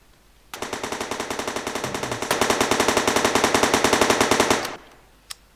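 Rapid automatic gunfire from dual akimbo weapons strafing in a video game, a loud continuous stream of dense shots that swells partway through, runs about four seconds, then cuts off, followed by a single sharp click.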